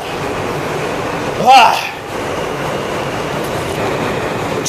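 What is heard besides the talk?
train riding on rails, heard from inside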